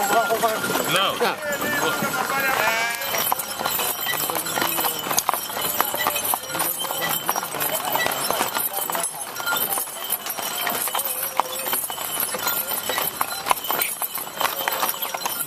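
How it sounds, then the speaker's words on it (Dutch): Horse hooves clip-clop in a steady walking rhythm during a horse ride in Romania, close and clear, while people talk over them and a brief whinny-like sound rises near the start. "we zijn weer bijna op het einde van deze paardenrit."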